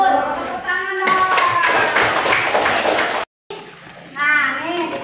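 A classroom of children claps their hands together in a busy burst of rapid clapping, with young voices chattering around it before a brief cutoff and more speech.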